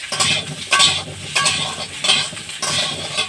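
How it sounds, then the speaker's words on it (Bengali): Sliced potatoes fry in oil in a pan, with bursts of sizzling hiss and stirring scrapes recurring roughly every half second, loud and close, with no talk. "আমি এখন তেলের উপরে যে আলুটা কেটে রেখেছিলাম সেই আলুটা দিয়ে দিচ্ছি"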